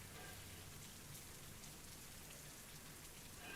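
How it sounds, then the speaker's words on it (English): A rain ambience track plays as a steady, soft, even hiss of falling rain, a quiet continuous background bed for a live reading, with no distinct drops or thunder standing out. "I know there's a rain track happening for the vibes."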